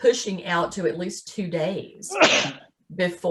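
A person sneezes once, sharply and briefly, in the middle of someone talking steadily, with the speech carrying on before and after.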